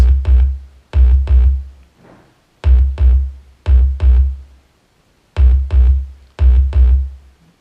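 A synth loop with a brighter, higher layer riding over thumping paired bass hits, repeating in a steady groove with brief pauses.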